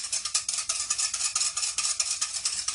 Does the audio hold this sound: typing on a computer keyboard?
no